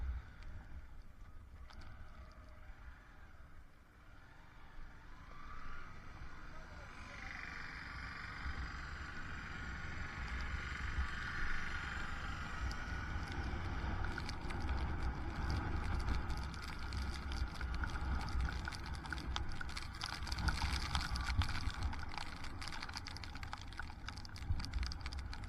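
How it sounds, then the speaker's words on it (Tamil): Strong wind buffets the microphone during a rainy motorbike ride through hill country toward Munnar, a continuous low rushing roar that swells and grows rougher over time. "வண்டி ஓட்ட கூட முடியலங்க, அந்த அளவுக்கு காற்று வேறு அடிக்குது, பின்னாடி தள்ளுதுங்க"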